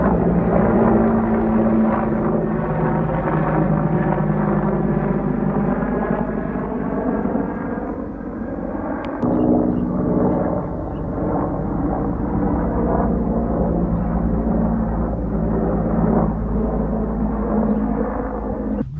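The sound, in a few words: helicopter flying overhead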